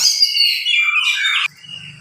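An oriental magpie-robin, kacer giras, sings a bright, rapid run of whistled and chattering phrases up close for about a second and a half, then stops abruptly, leaving faint low background noise.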